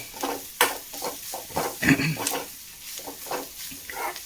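Grated coconut roasting in a pan for a Kerala erissery, with a spatula scraping and stirring in short repeated strokes and a faint dry crackle underneath, close and moderately loud.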